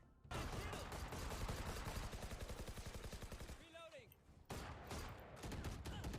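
Rapid automatic gunfire in Valorant, a tactical shooter game: dense, loud bursts of shots that run for about three seconds, stop briefly, then start again with more sustained firing.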